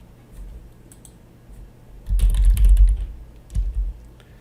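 Keystrokes on a computer keyboard as a command is typed into a Windows command prompt: a dense burst of clicky typing in the middle, then a short final cluster of key presses, with a quiet room before it.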